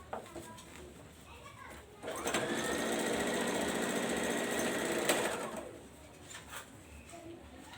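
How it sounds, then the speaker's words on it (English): A sewing machine runs in one sustained burst of rapid stitching along the sides of a fabric shield, starting and stopping abruptly, with faint room noise before and after. "Nelson, kindly sew the sides."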